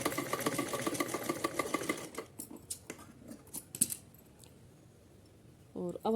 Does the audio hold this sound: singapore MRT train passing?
no